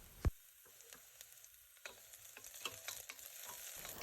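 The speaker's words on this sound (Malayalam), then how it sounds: "സവാള ചേർത്തതിന് ശേഷം 2 മിനിറ്റ് ഇത് നന്നായിട്ട് വഴറ്റാം." Onion and curry leaves sautéing in a pan for Kerala egg thoran, a steady soft sizzle broken by one sharp clatter near the start and scattered scraping stirs of a spatula, fairly close and with no voices.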